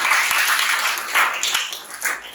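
A classroom audience claps for a student group after their presentation, a dense burst of applause that swells and dips in uneven waves over a couple of seconds.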